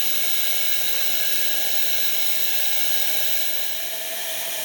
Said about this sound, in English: we'll switch on the blower which you've just seen. And it's now drawing the fire.